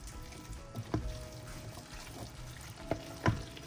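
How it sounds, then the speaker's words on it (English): Blueberries being stirred into a pot, with a few soft scraping and knocking strokes of a spoon over a low, faint background hiss. "We're just gonna stir the blueberries in"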